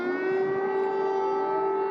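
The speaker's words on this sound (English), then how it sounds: "air raid sirens rang out across Kyiv." Air raid sirens sounding across Kyiv, a loud, sustained wailing tone holding steady at a single pitch for about two seconds, with no speech.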